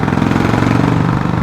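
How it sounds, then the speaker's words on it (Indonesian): A Harley-Davidson Sportster 1200cc V-twin runs close and loud, its steady, lumpy throb pulsing evenly throughout with no voices. "Cuman mesin Harley begini yang Sportster ini itu kayak mesin diesel."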